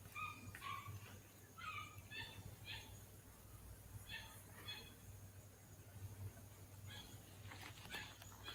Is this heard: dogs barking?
yes